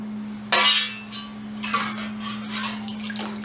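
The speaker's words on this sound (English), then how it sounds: "You can hear the sizzling." Hot coated metal dunked into water sizzles in several sharp hissing bursts, the loudest at the start, over a steady low electrical hum.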